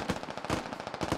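Sustained machine gun fire in a military video game, a dense rapid burst of loud close shots continuing without pause.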